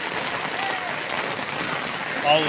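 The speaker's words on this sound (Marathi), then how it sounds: "पूर्ण पाऊस आज का पाउस का थाम नहीं" Heavy monsoon rain drums steadily on a surface in Mankhurd under full cloud cover, a constant close wash of drops; faint voice-like tones surface briefly near the end.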